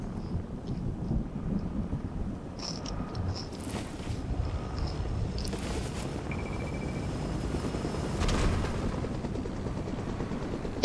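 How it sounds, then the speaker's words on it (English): A helicopter in a video game makes a faint, steady rotor rumble that carries on throughout, with scattered brief in-game effects rising above it. "If I die by this helicopter,"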